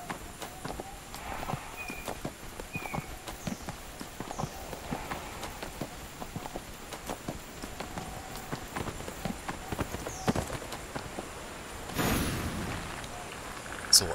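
A horse's hooves clip-clop in the fantasy video game Neverwinter, a quiet, steady run of light taps under faint game ambience with occasional soft chimes.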